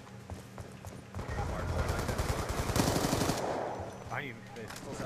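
Rapid automatic gunfire from Call of Duty Black Ops multiplayer, dense bursts of shots building to a sustained loud volley in the middle, with a voice talking underneath.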